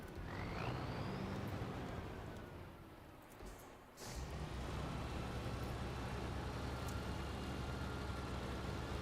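Heavy four-wheel-steer truck in the video game Snowrunner, its engine rumbling steadily and fairly loud, with a brief dip and then a restart of the low drone, no talking.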